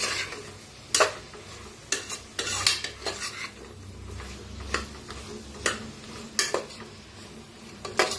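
A spoon stirs masala with coriander powder, red chili powder and sabzi masala in a pan for masale bhaat. Sharp metallic clinks and scrapes come at irregular intervals over a soft sizzle.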